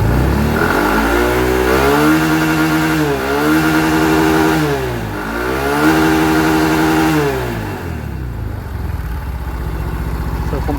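A Honda Mio i 125 scooter engine on a stock ECU revs loudly and close, climbing to its limiter in repeated rising-and-falling sweeps, then settling into a lower drone.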